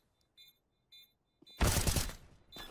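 A few faint clicks and footsteps in a Counter-Strike (CSGO) match give way to a sudden loud burst of gunfire that rattles for about a second before dying down.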